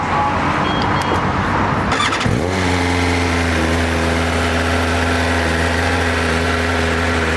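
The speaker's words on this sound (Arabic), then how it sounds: "سمعنا صوت الستوك" A 2024 BMW M1000RR superbike with its stock exhaust roars loudly and close, then drops sharply and settles into a deep, steady idle rumble.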